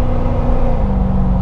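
Jeep Wrangler JK with an LS 6.0 V8, exhaust cutout open, idling with a deep, loud, steady rumble close by and no talk.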